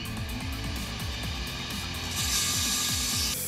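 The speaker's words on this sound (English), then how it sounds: "I'm going to cut off a blade width using a piece of 1/4 inch plywood as a guide" A power saw cuts a blade-width strip off pergola lumber, guided along a 1/4-inch plywood strip: rhythmic mechanical ticking, then a brighter, louder cutting whine for about a second near the end.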